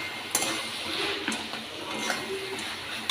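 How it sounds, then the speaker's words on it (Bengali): Fried spice mix being stirred into bottle gourd curry in a pan, heard as soft spatula scrapes and a few light metallic clinks over a quiet low sizzle, brief and fairly faint, without speech. "ভাজা মশলাটা দিয়ে একটু নেড়ে ছেড়ে নেবো।"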